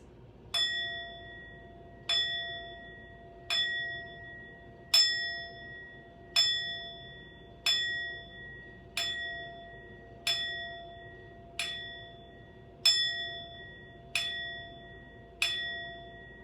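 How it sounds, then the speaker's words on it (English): A single bell rung to close a babies' play class, struck in a slow steady rhythm of about twelve clear ringing strikes, each decaying before the next, alone and fairly near. "I'm going to ring a bell for everyone, every family, as a way to close the class."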